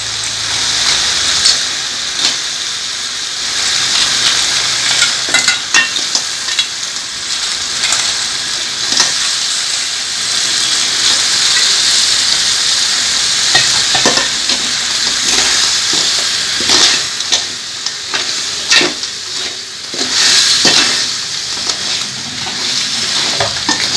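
Sea crab frying in a pan for a Sunday crab gravy, a loud continuous sizzle with repeated scraping and stirring throughout, no speech.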